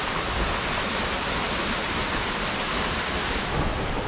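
Dense, steady roar of a waterfall in the Amazon rainforest near Puyo, Ecuador, broadband rushing water heard close and loud without pause.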